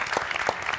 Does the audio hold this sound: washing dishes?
no